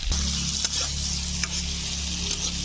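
Potatoes frying in hot oil for an egg curry, giving a steady, close hiss of sizzling with faint stirring clicks throughout and no voices.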